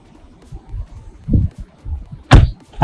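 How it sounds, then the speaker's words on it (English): Tesla Model X or Model Y door closing: a series of soft thumps and mechanical clunks, ending in a sharp, solid shut near the end, close by and without talk. "Close that door again."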